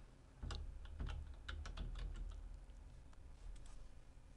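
Fingers type on a computer keyboard in a quiet room, a short run of close, crisp key clicks in an uneven rhythm, alone without talk.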